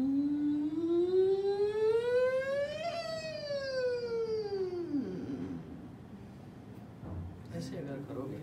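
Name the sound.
voice imitating a factory siren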